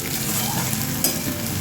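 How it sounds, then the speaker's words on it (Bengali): Bitter gourd frying in a pan with onions, giving a dense, continuous loud sizzle with a faint tap or two of a utensil partway through. "উচ্ছেটা ঠিক মতো ভাজবো।"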